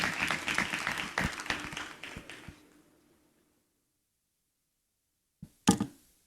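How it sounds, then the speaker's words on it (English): Applause at an awards ceremony in Ghana: a loose round of clapping that thins and dies away within a few seconds, followed by silence and a couple of sharp thumps. "Shall we do a big round of applause, ladies and gentlemen?"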